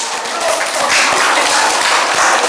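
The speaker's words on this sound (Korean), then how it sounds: "우리 하나님께 영광의 박수 올려드릴게요" A church congregation at a Wednesday worship service breaks into loud, dense applause, a continuous wash of clapping that lasts a couple of seconds.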